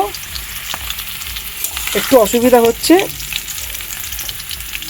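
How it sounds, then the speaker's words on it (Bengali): Potatoes frying in hot oil in a wok give a steady, close sizzle and crackle, with someone briefly speaking over the frying midway. "এখন আলু ভাজা চলছে এখানে"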